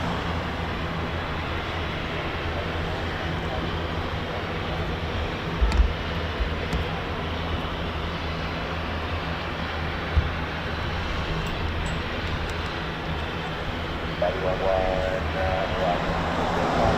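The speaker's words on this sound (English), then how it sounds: "you just look at an aircraft like the C-130 here, just running its engines" C-130 aircraft running its engines at an air base, a steady distant propeller-engine drone throughout with a couple of faint clicks and a soft voice rising near the end.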